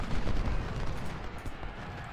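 Cannon artillery fire booms continuously in the Civil War strategy game Ultimate General: Civil War, a dense, loud barrage of overlapping blasts with no gaps and no talking.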